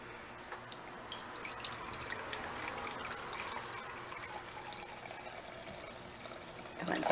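Vinegar, white or apple cider, poured for a Greek salad dressing, making a soft steady trickle and splash of liquid into a container, close and fairly quiet, with no talking.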